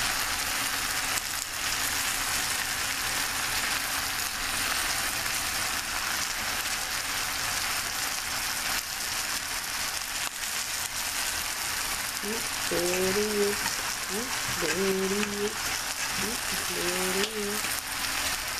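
Cabbage and corned beef sizzle steadily in a pot over a medium flame, a continuous broadband hiss like light rain that runs the whole stretch, with brief voice fragments near the end.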